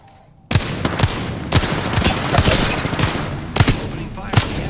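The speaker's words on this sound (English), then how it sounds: "Opening fire on the enemy." Rapid bursts of automatic gunfire in the battle royale shooter Apex Legends, loud and close, with sharp repeated shots and short pauses across the clip after a brief quiet start.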